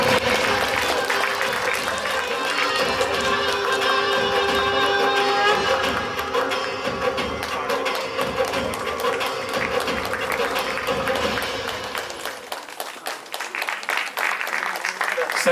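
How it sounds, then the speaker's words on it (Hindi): Audience applause and cheering greet an actor arriving on stage at a Hindi film trailer launch event, a dense crowd roar that runs throughout while an emcee talks over it. "जोरदार तालियां सनी सर के लिए।"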